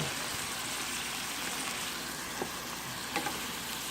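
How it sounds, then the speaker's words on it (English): Cioppino sauce seasoned with basil and ground thyme bubbles in a pot, making a continuous soft hiss with a few faint pops near the end. "let that simmer real nicely right there"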